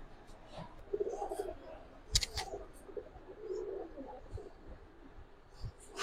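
Pakistani Kaldam pigeons at a pigeon farm give soft, intermittent coos and rustles, with a sharp brief clatter partway through, close by and moderately quiet.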